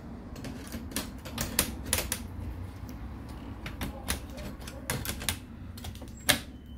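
A hard drive is fitted into an HP Pavilion all-in-one PC, with a quick series of faint plastic and metal clicks and taps, irregular and close.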